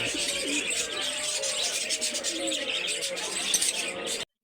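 Pigeons cooing at a pigeon farm where large white pigeons and parrots are kept, soft repeated coos and bird calls close by over a busy background.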